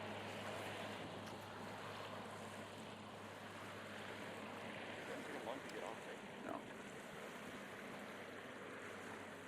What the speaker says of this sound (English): we heard a boat coming from the Downriver direction